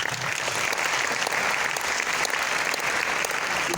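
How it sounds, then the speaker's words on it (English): Warm, even applause from an audience at a science talk event, a continuous, fairly loud patter of many hands for several seconds. "give them a warm applause"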